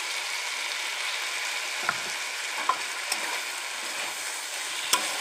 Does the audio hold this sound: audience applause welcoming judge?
no